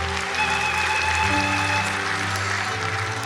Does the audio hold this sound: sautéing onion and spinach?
no